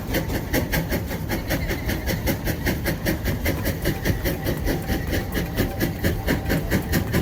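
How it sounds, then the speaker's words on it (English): An antique steam traction engine runs with a steady, rapid chuffing beat, hissing steam and mechanical clatter from its gears, loud and close with a continuous rumbling undertone. "Steam hissed, gears groaned, and the ground trembled beneath its steel wheels."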